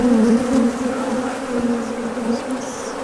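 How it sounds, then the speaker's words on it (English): Honeybees at an open beehive give off a steady, close, droning buzz with a strong, even hum and no pauses, heard on its own without talking. "Just slowly working our way across the hive."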